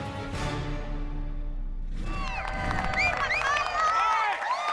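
A crowd at an American Ninja Warrior military qualifier cheers and whoops, with high shouts rising over steady roar after a sweeping tone fades out, loud and close throughout.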